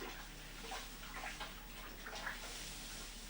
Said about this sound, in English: It probably take me the best part of 4 or 5 minutes to get it completely stirred in.